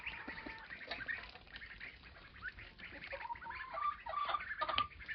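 Domestic ducks in a farmyard give soft, scattered quacks and low chattering calls close by, rising into a busier cluster near the end, with no voices.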